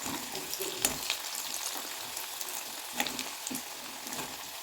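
Potatoes fry in hot oil with a steady, dense sizzle and occasional brighter crackles and stirring clinks, no voices over it.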